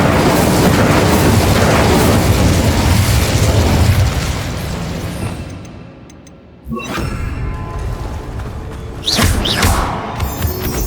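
A fire spell cast in Hogwarts Legacy, heard as a loud burst of roaring flame with deep booming rumble that fades, followed by fresh crackling bursts and bright magical flares.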